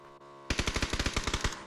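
Rapid burst of automatic gunfire in the video game PUBG, about a dozen evenly spaced shots in quick succession, loud and close, following a brief pause.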